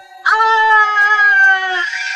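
A man lets out a single long, loud, high-pitched scream that begins abruptly and holds steadily for about a second and a half before trailing off.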